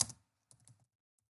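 A few light computer keyboard keystrokes sound close and quiet while someone types in a browser: one cluster at the start and a short burst of clicks about half a second later, with silence between.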